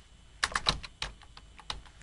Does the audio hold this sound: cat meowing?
no